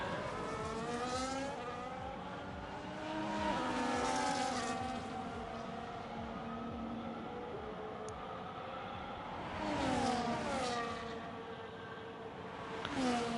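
Race car engines in a racing video game sweep past one after another, two swelling, whining passes separated by a steadier drone, the cars running close together.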